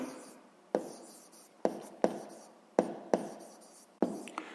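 A maths expression written out by hand on paper: a series of quick close scratchy pen strokes with short pauses between them, quiet and without talk.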